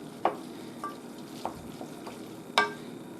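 Panfish scampi being stirred in a pan, with a few sharp scrapes and clinks of a utensil spaced irregularly over a faint, steady sizzle.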